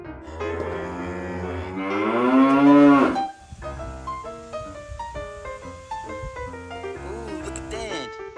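Cattle in a grassy field, a female cow lowing in several long, loud moos that rise and fall, with further calls and faint farm ambience following.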